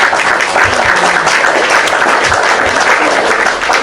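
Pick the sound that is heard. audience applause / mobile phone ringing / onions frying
audience applause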